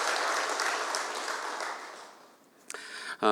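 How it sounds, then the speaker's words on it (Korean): Church congregation applauding the choir after a worship song, a brisk burst of clapping that fades away within a few seconds before a short sound and a voice begin at the end. "다시 한번 큰 박수를 한번 격려해 주시겠습니까?"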